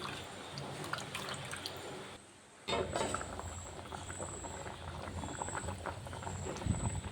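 Katla fish curry simmering on a low flame gives a continuous bubbling patter with small pops and drips. It stays steady and close and briefly drops out near the two-second mark.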